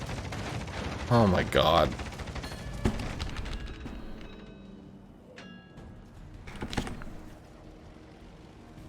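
Naval guns on the warship Aoba firing in a naval combat video game, a few heavy booming shots of gunfire mixed with game sounds while a voice exclaims over them.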